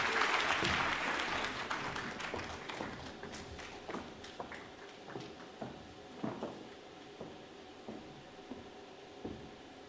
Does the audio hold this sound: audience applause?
yes